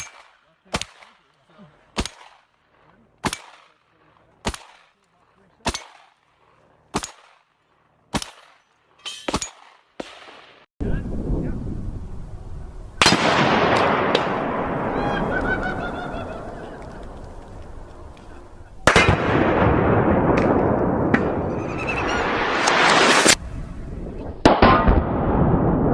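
Sharp, evenly spaced gunshots ring out at a shooting range, about nine cracks roughly a second apart, then louder, denser blasts and sustained roaring noise follow from shotguns and rifles such as AR-15s firing 5.56 rounds.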